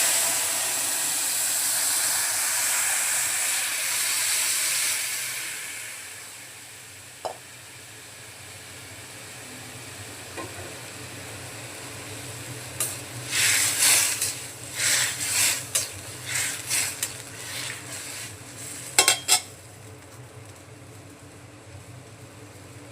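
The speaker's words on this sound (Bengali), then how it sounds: "ফোড়ন হয়ে গেছে, এখন ডালটা ঢেলে দেব।" Lentils poured into hot tempering with crushed ginger for a Bengali vegetarian dal: a broad steady hiss of sizzling fades after a few seconds, followed by quieter stretches broken by bursts of scraping and stirring clatter.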